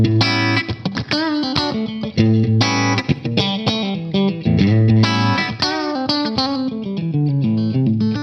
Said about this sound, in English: this that I call room reverb, it's a very short reverb to create the room ambient.